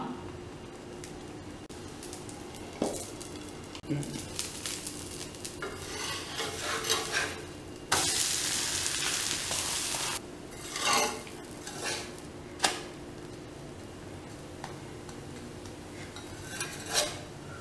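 A coconut dosa cooks on a hot pan as oil is drizzled around its edge, giving a steady close sizzle with a loud hissing burst midway and occasional sharp scrapes and clinks from a metal spatula.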